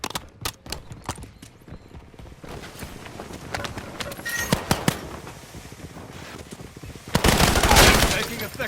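Gunfire rattles through a Call of Duty Warzone battle royale match in Verdansk, with sharp bursts and single shots amid footsteps, building to a dense volley near the end, while voices speak in between.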